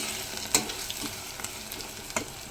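Taro pieces coated in chili powder cooking in a covered pot on a low flame, giving a steady, soft sizzle with a few faint pops, close and quiet, no voices.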